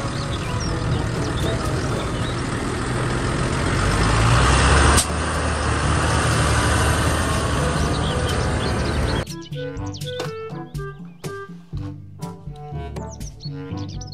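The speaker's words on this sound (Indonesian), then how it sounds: "Mobil traktor." A heavy diesel tractor engine rumbles and idles loudly for several seconds with a hiss of air, then cuts to quieter background music with a melodic tune.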